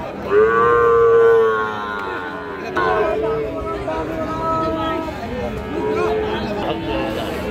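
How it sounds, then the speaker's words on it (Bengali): Calves and cattle at a livestock market let out several long, loud moos close by. A crowd murmurs and people talk in the background. "আমরা এই যে এই পাশে বেশ কিছু বাছুর গরু দেখতেছি।"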